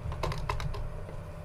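Rapid, light clicking of keys on a computer keyboard, typed in quick bursts at close range, quiet and without any voices.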